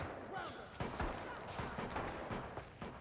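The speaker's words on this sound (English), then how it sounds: "I heard a gunshot" A few sharp gunshot cracks in The Last of Us Part 1 video game with faint rumbling, set against a low background and quiet voices.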